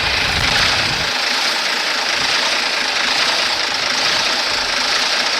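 An old American farm tractor engine idles on a Canadian farm, a loud, steady low rumble that runs on without a break and has no talk over it.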